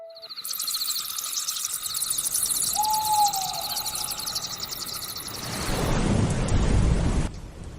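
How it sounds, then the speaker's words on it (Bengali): A cartoon thunderstorm at night: steady rain with a long owl hoot in the middle, then a deep rumbling thunderclap building near the end, with no voices. "দাদু, এই ঝড় কি কোনোদিন থামবে না? রোজ রাতে এই ঝড় বৃষ্টি লেগেই আছে।"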